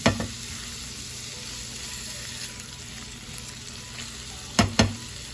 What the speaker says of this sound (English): I'm just gonna saute these until they're nice and pink.